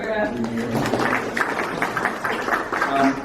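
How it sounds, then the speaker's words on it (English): A round of applause from a symposium audience, steady clapping running under a voice that keeps talking throughout. "We also need a big round of applause for Kira over here"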